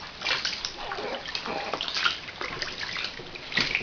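Bath water splashing and sloshing as baby Samo is bathed, close, irregular light splashes continuing throughout.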